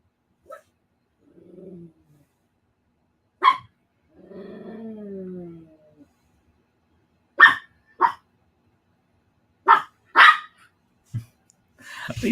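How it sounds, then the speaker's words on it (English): A dog gives scattered sharp barks and a few low growling whines, spaced irregularly with silence in between, fairly close. "What are you barking?"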